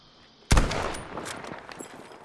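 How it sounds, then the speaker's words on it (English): A mounted machine gun fires in Battlefield V: one sudden loud blast that fades into a rattling decay, with a few fainter shots trailing behind. "Mounted machine gun?"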